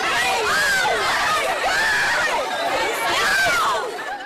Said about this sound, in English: Look at this crush of shoppers in a Chattanooga Victoria's Secret pink store.